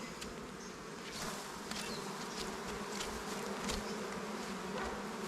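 Honey bees buzz at a beehive in a faint, continuous drone, with a few louder bees passing close, and no voices.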